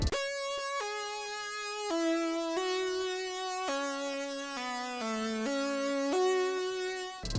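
A bright, buzzy synth lead panned right plays a stepwise melody of sustained notes, solo and fairly loud, with no talking.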